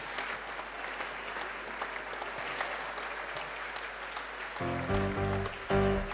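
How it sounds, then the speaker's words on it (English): Audience applause at a tennis awards ceremony, steady clapping from a seated crowd heard at moderate distance, with music swelling in near the end. "Please give them a big round of applause."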